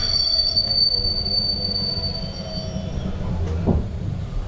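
A train pulls into Baharampur Court station on the Krishnanagar to Darjeeling line, its wheels squealing in high, sustained tones over a steady low rumble of rolling carriages, with a brief clunk near the end and no voices.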